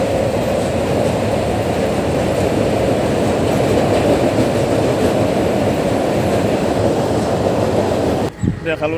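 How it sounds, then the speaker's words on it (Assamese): A train passes close by beneath Saraighat bridge over the Brahmaputra, a loud sustained rumble of wheels and rail cars that holds steady before cutting off abruptly near the end. "সেই সময়ত আহিছে ট্ৰেইনখন"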